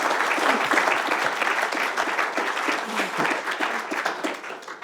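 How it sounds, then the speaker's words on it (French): Conference audience applauding the host in a dense, sustained wash of many hands clapping at once, fairly loud and even throughout, with no voice over it. "je pense qu'on peut applaudir l'animateur"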